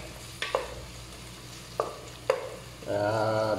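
Onions for monggo hit a hot pan with a few sharp clacks of a utensil, then settle into a steady close sizzle.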